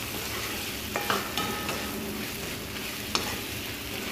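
Sev and tomato curry is stirred in a frying pan, with a steady background sizzle and a few sharp spoon scrapes and clinks against the pan.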